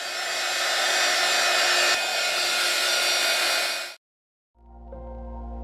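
A hair dryer blows steadily and loudly over a gesso-primed diorama tree stump for about four seconds, cuts off abruptly, then restarts with a lower hum.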